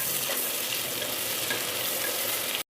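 Onion, green chili and ginger garlic paste stir-fry in a hot pan, giving a steady, loud, close sizzle with faint scraping of stirring throughout.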